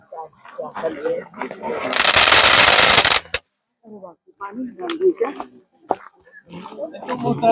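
A rapid string of crackling Diwali firecracker pops erupts for about a second, loud and close, with people talking before and after.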